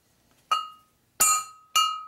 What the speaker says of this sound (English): put a good peen in it